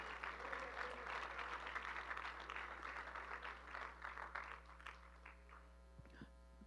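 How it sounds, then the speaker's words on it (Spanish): Church congregation applauding for the Lord, a moderate crowd clapping that tapers off, set against a steady electrical mains hum and quite faint overall. "Alguien le podrá dar un aplauso al Señor Jesús."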